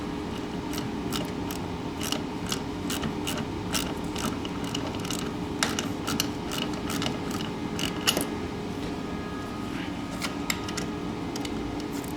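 Ratchet wrench tightening bolts on the paddles of a Toro Power Clear snowblower, a long steady run of close, rapid metallic ratchet clicks with a few sharper clacks, no talking.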